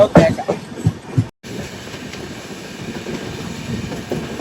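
A passenger express train rolls onto the Godavari arch bridge in the early morning, a steady rumbling rattle with faint clatter heard from inside a carriage, with brief talk near the start.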